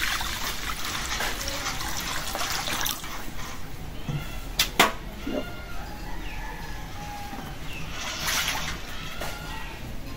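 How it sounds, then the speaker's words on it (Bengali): Water is poured into a wok (kadai) set on a stove, a faint trickling splash building and fading across several seconds, with a few sharp clinks midway. "কড়াইতে পানি দিয়ে দিই।"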